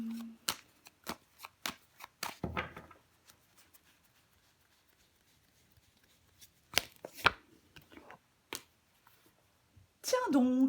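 Tarot cards are laid down on a table during a reading: a scattered series of sharp, close taps and slaps, separated by quiet stretches.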